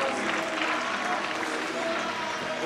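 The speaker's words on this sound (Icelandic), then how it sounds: "Við skulum gefa honum gott klapp." A crowd applauds steadily at a stallion show in Iceland in 2010, a dense, even wash of clapping from many hands that fills the whole stretch, with a voice faintly heard beneath it.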